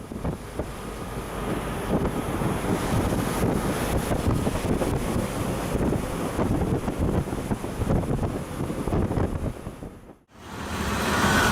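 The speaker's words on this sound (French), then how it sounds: "Voici à quoi ressemble une tempête modérée dans les mers nordiques." Moderate storm in northern seas with waves around 3 m: a steady, loud roar of wind and surging water buffets the microphone for about ten seconds, dips sharply to near silence, then surges back.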